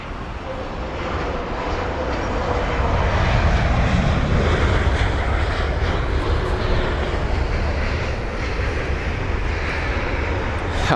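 British Airways Airbus A320ceo airliner landing at Heathrow, a steady, loud broadband engine roar that swells slightly and holds throughout, with no voices.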